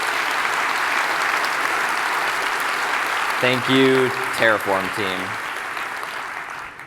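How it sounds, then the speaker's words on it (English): A conference audience gives the Terraform team a steady round of applause that continues evenly, then a voice speaks over the clapping before it tapers off. "could you just give them a round of applause right now, please?"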